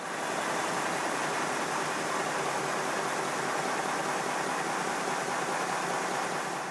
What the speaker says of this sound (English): Time now to fit the blast nozzle and test the engine to see what difference it makes by it having a blast nozzle.